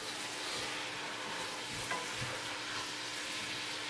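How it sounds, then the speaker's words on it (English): Clams and chowder ingredients stirred together in a bowl, giving a steady, close, wet scraping and sloshing that runs continuously without voices. "I'm going to stir them just a little bit."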